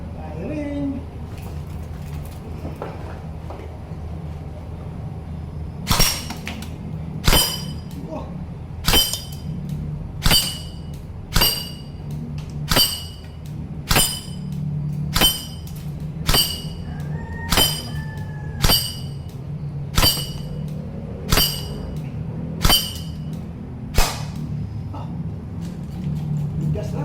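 Tracer BB gun shots hit wine bottles in a steady series of about fifteen sharp, close cracks and breaking impacts, spaced roughly a second apart, over a low background hum with voices nearby.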